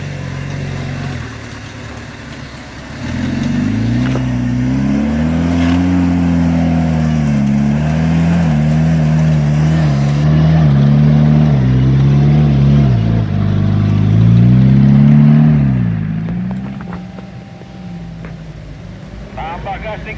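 An off-road car engine revving hard and holding a rough, droning roar for several seconds with wavering pitch as it climbs a rut on an off-road trail, with people calling out over it, then easing off.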